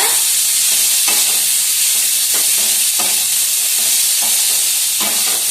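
Corn masala with onions is stirred on a hot dosa griddle, giving a steady frying sizzle with repeated scraping strokes of the spatula, close and continuous, with no voices.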